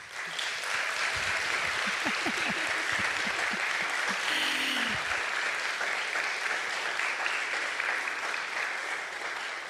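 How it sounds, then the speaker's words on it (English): Audience applauding a panel at an education policy discussion, a broad, steady wash of clapping from a sizable crowd, loud and continuous, with a few short voiced sounds early on. "Let's give our panel a round of applause."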